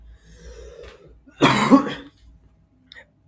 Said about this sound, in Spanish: Estoy con un poco de tos, disculparán.